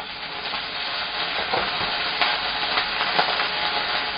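Vegetables and ginger stir-fried in a pan with a splash of soy sauce and rice wine, producing a continuous close sizzle and hiss with a few scraping stir strokes, and no one speaking.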